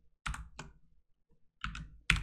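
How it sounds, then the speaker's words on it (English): Fast typing on a computer keyboard: two quick pairs of sharp clicky keystrokes separated by a pause, close and crisp in otherwise quiet surroundings. "I have a habit sometimes of typing too fast."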